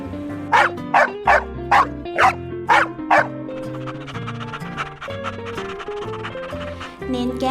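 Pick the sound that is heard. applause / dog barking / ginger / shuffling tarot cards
dog barking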